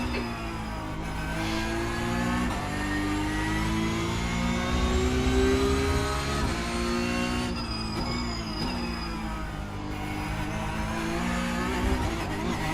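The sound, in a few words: racing car launching and accelerating in a sim racing game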